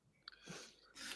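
A single quick sneeze bursts out, followed by a breathy exhale and a short noisy rush of air, fairly close and moderately loud.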